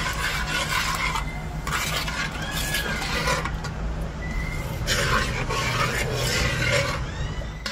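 Ingredients are stirred in a bowl for a butterfly chicken drumstick dish, giving a steady close scraping and rubbing sound with louder bursts every second or so and no talking.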